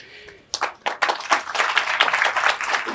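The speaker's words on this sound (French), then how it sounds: "Oui, ça mérite vraiment des applaudissements." Audience at a school opening ceremony breaks into applause after a short quiet lead-in, the clapping building quickly into a dense, moderately loud round that carries through to the end.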